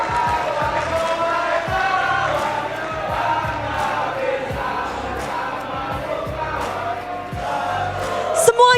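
A large esports arena crowd at an MPL Indonesia Season 15 match cheers and roars for team EVOS, a loud sustained wall of voices with whoops, under a commentator talking, rising to a sharp burst near the end.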